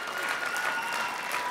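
A concert hall audience at a folk dance gala final gives steady, dense applause, a continuous wash of clapping that holds even throughout.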